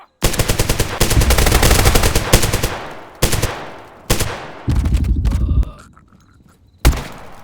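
Loud machine gun bursts in the Zero Hour shooter game, several long sustained volleys with short breaks between them, close and dominant with no talk.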